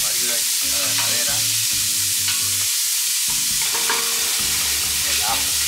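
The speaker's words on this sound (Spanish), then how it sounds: "es momento de agregar la cebolla picada, toda la cebolla de esta forma" Chopped onion sizzles and crackles in a hot pan for rice with chicken, stirred with a wooden spoon, with steady frying noise and scraping strokes throughout, plus some tonal pan scraping.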